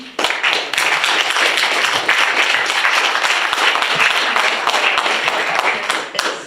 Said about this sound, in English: And a huge round of applause again.